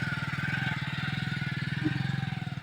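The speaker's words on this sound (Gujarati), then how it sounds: "બાઇક ના ડ્રાઈવર આવી ગયા છે" A motorcycle engine runs steadily close by, its rapid, even firing pulses holding a constant throbbing rhythm throughout, with a faint voice in the background.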